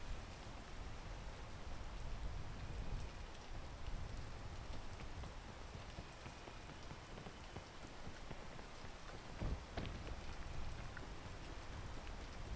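Steady rain pours in the video game PEAK, a dense, even hiss of falling drops spattering on surfaces, continuous and moderately quiet throughout, with one brief sharper knock near the end.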